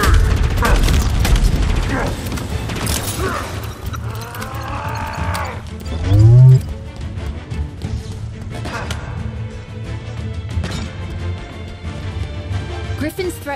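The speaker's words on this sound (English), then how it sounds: "Grenade away!" A grenade goes off in the video game Halo Infinite: one heavy, deep boom in the middle of busy combat noise, with voices talking before and around it.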